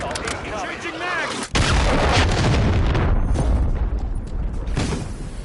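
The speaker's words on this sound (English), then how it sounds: "Hostile cruise missile incoming." A cruise missile strike in Modern Warfare 3 erupts as a loud, sudden booming explosion that keeps rumbling with heavy gunfire and battle noise, while a voice talks faintly underneath.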